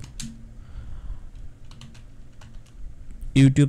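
Typing on a computer keyboard while entering a search term in a Canva design tutorial, a few light scattered clicks, then a quick louder burst of keystrokes at the end, close and fairly quiet.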